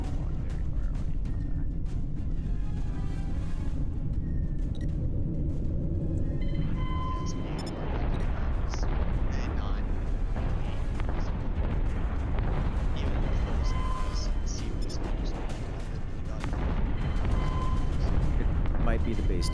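Base turrets firing in a space combat game come as repeated heavy booming blasts and rumbling over a dense background of engine drone and combat noise, with a voice talking over parts.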